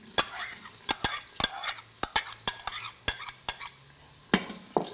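Chopped onion sautés in melted butter inside an Instant Pot, with a gentle sizzle under repeated sharp scraping clacks of a utensil against the metal insert, close and clear, without speech.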